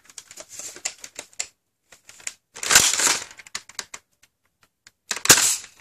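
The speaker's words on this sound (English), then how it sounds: "So chrono test for this Max Havoc blaster." X-Shot Excel Max Havoc toy blaster firing foam darts through a chronograph, sharp plastic clacks and ratcheting priming clicks, with two louder bursts of mechanical action close to the microphone.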